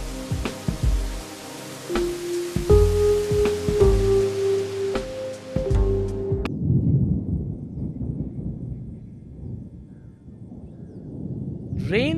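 Heavy monsoon rain in India pours down as a dense, steady hiss of rainfall that follows a stretch of musical tones and continues to the end.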